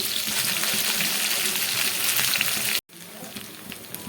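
Capsicum and potato pieces fry in a pan over a medium flame, giving a loud, steady crackling sizzle that cuts out for a moment and then carries on a little quieter.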